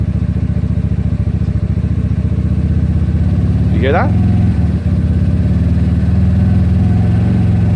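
A small GY6 scooter engine idles and revs steadily up close, its throttle rising and falling, while a person speaks briefly over the running motor.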